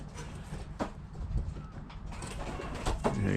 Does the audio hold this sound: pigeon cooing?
yes